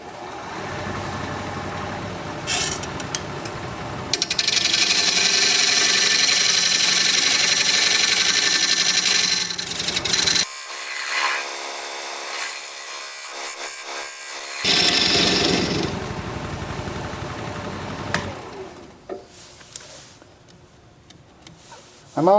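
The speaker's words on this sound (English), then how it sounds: "I'm going to use my dovetail tool, put a dovetail on the side here, or a recess tool" A wood lathe spins a butternut blank while a dovetail recess tool cuts into it, giving loud, steady scraping and hissing with breaks where the tool lifts off and the lathe hum carries alone.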